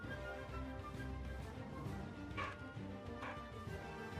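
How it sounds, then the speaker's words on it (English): A pet dog barks in short yips and whimpering bursts somewhere nearby, faint and intermittent over steady indoor background noise, with no talking. "I apologize if you can hear my dog barking."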